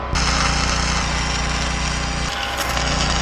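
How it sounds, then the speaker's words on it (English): Bullet hinges being welded onto a rowing trailer's storage box: a loud, steady, close crackling hiss that runs without pause for the whole stretch and shifts slightly in tone near the end. "Gonna weld 3 bullet hinges up and then test to make sure the lid's open smoothly,"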